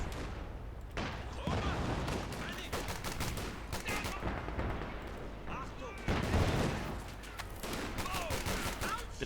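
Dense battlefield gunfire from a Company of Heroes 2 match: rifle volleys and Browning automatic rifle bursts crackle in rapid, overlapping rounds with occasional heavier booms, loud and continuous under a commentator's voice.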